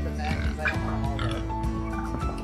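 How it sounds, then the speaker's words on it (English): Baby pigs grunting and oinking in farm stalls, a dense, continuous chorus of close squeals and grunts with a steady low barn rumble underneath. "There's some baby pigs."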